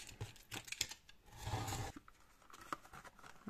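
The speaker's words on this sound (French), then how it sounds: "Je vais prendre ma règle, mon cutter, et je vais pas tracer, je vais me mettre directement aligné ici et là, comme ceci, et je vais couper cette partie." A utility knife drawn along a ruler slices through the cardboard of a Kinder Country box, giving faint scraping and scratchy cutting strokes with small clicks, one longer rasping pass in the middle.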